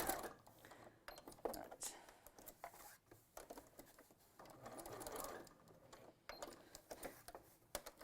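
A compact sewing machine fitted with a borrowed walking foot stitches a man's shirt in bursts of quick mechanical chatter, fairly quiet and close, with pauses between runs and people talking softly alongside.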